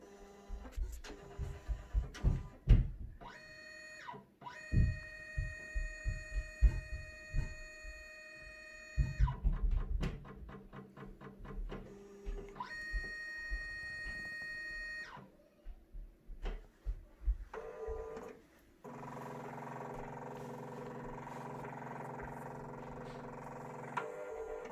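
A Nikon Coolscan LS 9000 film scanner works through a film strip with motor whirs, steady tonal drive hums and clustered clicks and ticks, ending in a long even mechanical hum, close and moderately loud with no talk.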